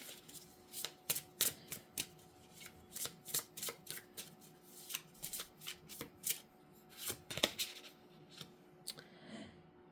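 Kipper fortune-telling cards being shuffled up close, with repeated crisp riffling bursts in a loose rhythm across the stretch.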